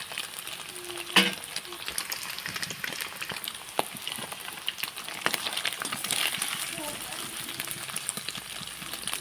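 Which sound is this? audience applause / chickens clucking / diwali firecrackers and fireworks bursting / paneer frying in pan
paneer frying in pan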